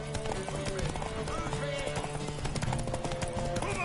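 In The Witcher 3, a horse's hoofbeats clop along amid a thick bed of game music and ambient sound, with a hint of a whinny mixed in.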